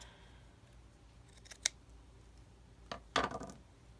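Scissors snip paper for a trifold craft tag in a few short, crisp cuts, a quick single snip followed by a brief cluster of close cuts against a quiet background.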